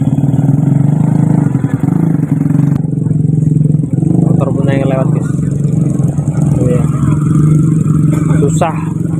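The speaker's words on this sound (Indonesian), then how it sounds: "Motor pun yang lewat guys." Motorcycles pass close by in a dense rush-hour traffic jam, a steady engine drone with clattering and brief revving bursts over continuous road noise.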